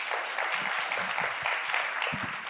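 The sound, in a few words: audience applause for session chairs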